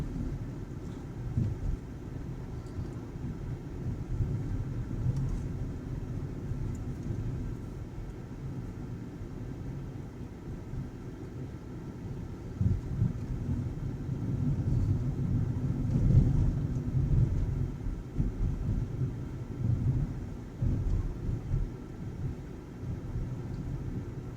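Car interior rumble on a driving test route through Uzhhorod, a steady low engine and road drone at moderate level that swells slightly midway, with no talk.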